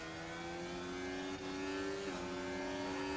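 Ferrari Formula 1 race car in a racing video game, a steady, fairly faint high-pitched engine whine that holds its tone and then steps down slightly in pitch as it overtakes.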